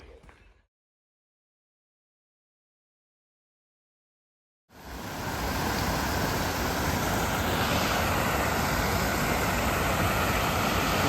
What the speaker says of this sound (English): I'll show you the stream here, that you can see it going very, very clear.